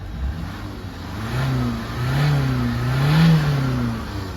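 A Toyota diesel engine on a vehicle with over 200,000 km revs up in two or three rising and falling surges from a steadier idle, loud and close, with no talk.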